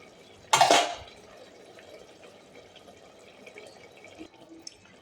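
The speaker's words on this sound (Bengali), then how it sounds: "সামান্য হালকা করে সামান্য একটু ঝোল দিয়ে দিলাম।" Cabbage and chickpea curry gets a splash of broth, heard as one short pouring burst near the start, then a soft, low bubbling simmer for the rest.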